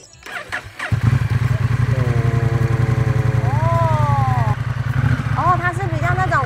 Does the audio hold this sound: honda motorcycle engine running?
yes